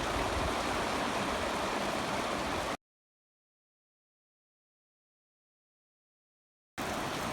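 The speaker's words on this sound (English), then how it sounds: "it's raining harder now." Dense, hissing heavy rain falls straight down with no wind, roaring steadily over a pasture, cuts to complete silence for several seconds, then returns just as loud.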